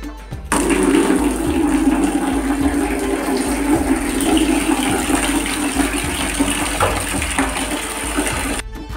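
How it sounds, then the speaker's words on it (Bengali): Water gushes steadily from a tap into a bucket during house cleaning, a loud continuous splashing fill that starts abruptly and runs for several seconds before cutting off, with no voices. "আর এই বালতিতে জল নিয়ে নিচ্ছি"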